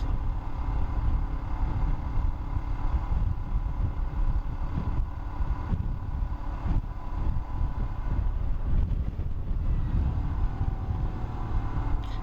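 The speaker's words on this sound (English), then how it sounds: "I just love the exhaust note." Steady low engine and exhaust rumble of a Royal Enfield Himalayan motorcycle with heavy wind rush, recorded while riding at speed, continuous and fairly loud.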